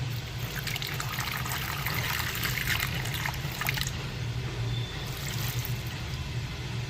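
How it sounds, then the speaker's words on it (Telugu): Water trickles and pours into a pot of cut, unpeeled vegetables, a steady close splashing stream that runs the whole time with no voices. "ఇప్పుడు మనం ఇందులోనే కొంచెం వాటర్ పోసుకోవాలి."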